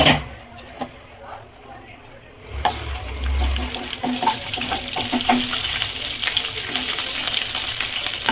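Spices frying in oil in a kadai for a paneer masala, a steady close sizzle that starts after a quieter opening and holds continuously, with light stirring and clatter on top.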